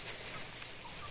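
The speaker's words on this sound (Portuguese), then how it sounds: "E o Dudu fazendo uma festa com as galinhas" Chickens clucking softly in a backyard coop area, a low, steady fowl murmur with no clear single calls standing out.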